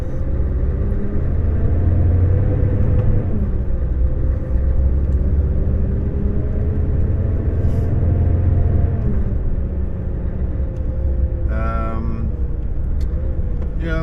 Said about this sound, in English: bank holiday traffic has been a bit of a disaster so far